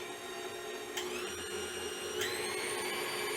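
A KitchenAid stand mixer hums and whines steadily up close, with two quick upward shifts in pitch as its speed is raised, mixing keto vegetable soup gnocchi dough.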